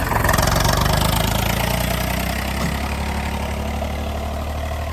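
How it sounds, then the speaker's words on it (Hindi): A loud tractor engine runs steadily at a deep, throbbing idle-like rumble, slightly easing off partway through, with no voices. "ट्रैक्टर तेज चल रहा।"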